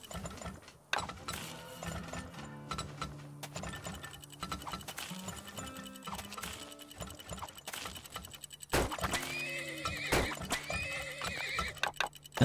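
Horses neigh and whinny over clip-clopping hooves and ratcheting, clanking machinery in the oil-drilling video game Turmoil, several calls close and clear across a busy game soundscape.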